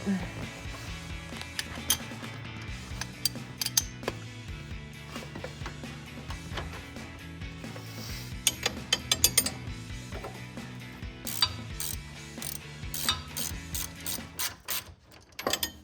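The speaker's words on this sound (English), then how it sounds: "And our 1/2-inch drive ratchet." A 1/2-inch drive ratchet turning a 21mm socket while fitting 3-inch front lift struts to a 2007-2018 Chevrolet Silverado, heard as runs of close, sharp clicking bursts over a low background hum.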